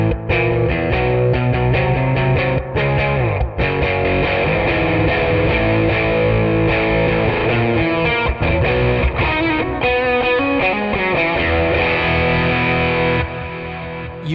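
Electric guitar through a 5E3 Deluxe amp model and impulse response with a FatHead microphone, playing a thick, distorted chord part that sustains loudly and continuously without any talking.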